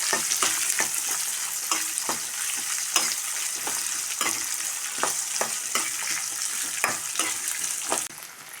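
Ten to fifteen shallots sauté in a pan for a Kerala thoran, with a steady close sizzle and frequent sharp clicks of stirring that run to the end.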